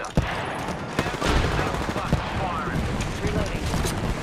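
Rapid gunfire in Apex Legends, with bursts and sharp shots rattling almost continuously over a busy mix of game sound, while players talk over it.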